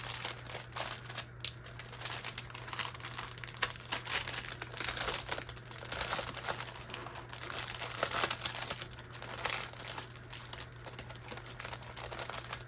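Soft plastic crinkling and rustling as a packet of cross-stitch embroidery threads is opened, a steady close-up crackle of handled wrapping that runs throughout with no talk.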